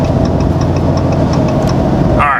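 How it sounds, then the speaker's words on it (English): A truck on Radar Renegade AT5 33x12.50 all-terrain tires drives under acceleration, giving a steady loud engine drone with broad road and tire roar throughout, no talk. "You can probably just hear the truck at this time because I'm on the accelerator"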